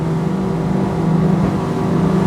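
Back Cove 34O motorboat engine at full throttle, a loud continuous roar with steady droning tones and rushing water noise, running alone without talk.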